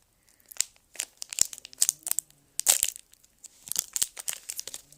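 Crinkly plastic wrapper of an Ülker snack package being torn open and handled, a run of sharp crackling and crumpling bursts close by, alone without talk.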